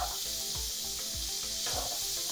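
A dal paratha filling with turmeric being stirred in a pan: a soft, steady sizzle with regular scraping strokes of a spoon about twice a second, close and continuous.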